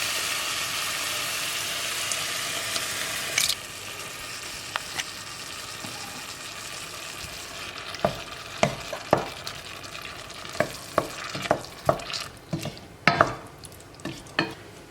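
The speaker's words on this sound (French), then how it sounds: "Maintenant que l'oignon et le poivron sont bien revenus, je vais rajouter de la sauce tomate, donc en boîte" Onion and bell pepper sizzle steadily in a hot pan; partway through, the hiss changes as canned, no-sugar-added tomato sauce goes in, followed by sharp clicks and scrapes of stirring utensils against the pan.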